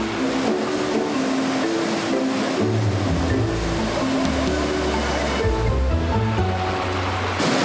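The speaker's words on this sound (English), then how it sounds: "The steady roar of the icy Owengarrif River entices us to venture deeper inside." The icy Owengarrif River in Ireland, near Torc Waterfall, roars as a loud, continuous broadband rush of water with a low rumble underneath, steady throughout with no voices.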